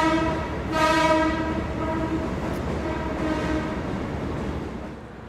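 A Jayakarta service locomotive being shunted sounds a loud, sustained horn blast, then its engine rumbles steadily near at hand, with no talk.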